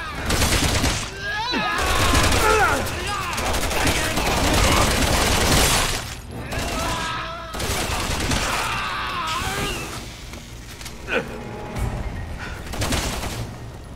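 Resident Evil 6 combat on a laptop: rapid gunfire bursts and impacts, loud and close, tangled with game voices and effects, with several dense volleys and a few sharp isolated shots.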